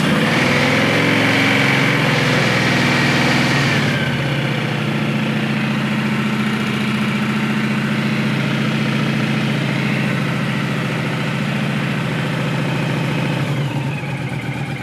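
A 2009 Honda VTX1300T motorcycle engine, said to need top-end work, catches and idles loud and close with a steady low rumble, rougher and busier for the first few seconds before settling into an even idle.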